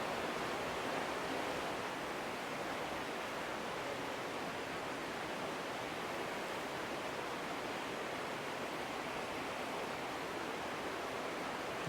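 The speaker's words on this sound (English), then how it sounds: "you could sit here and just listen to the creek" A creek flowing at the Catwalk Recreation Area in New Mexico, heard as a steady, even rush of water that stays constant for the whole stretch with no voices over it.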